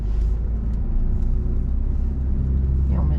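A car in driving-lesson traffic pulling away gently after braking, a steady low engine rumble that holds even and close, with no voices.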